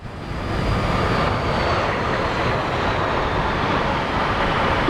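Frecce Tricolori MB-339 jets fly a low-speed turn with air brakes extended at the Milwaukee airshow, a broad, loud, continuous roar that swells quickly and holds steady, with no talk.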